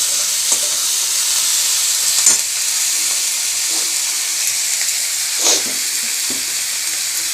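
Onions with salt frying in a pan, a steady bright sizzle and hiss with occasional scraping stirs, close and even throughout.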